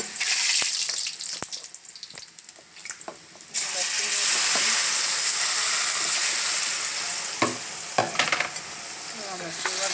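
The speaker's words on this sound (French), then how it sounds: "on peut voir que l'huile est chaude ici. Vous ajoutez, vous renversez votre banane." Plantain pieces tipped into very hot cooking oil set off a loud, steady sizzle a few seconds in, after a quieter start with light clinks, continuing as a bright crackling hiss with occasional stirring.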